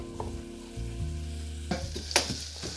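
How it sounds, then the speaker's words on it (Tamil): Onions sauté in a pan for a pumpkin dish, giving a steady close sizzle with a few sharper crackles and pops toward the end. "வெங்காயம் பதங்கி வந்துட்டு சரியோ பாருங்க."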